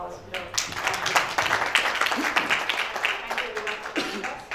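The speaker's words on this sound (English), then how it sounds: "Can we have a round of applause for the panelists?" Audience applause for the panelists at the close of a data protection and AI regulation event, with moderate clapping throughout under a room full of sound, fairly steady and not very loud.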